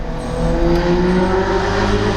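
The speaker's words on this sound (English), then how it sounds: "Sorry about the traffic outside," Road traffic passes outside a room, a steady close engine rumble with a droning hum, loud and continuous, with no talk over it.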